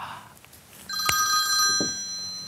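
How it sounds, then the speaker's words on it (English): A telephone bell rings out loudly with a sharp strike followed by a sustained metallic trill, close and clear, after a moment of quiet background. "Wait, that's the phone."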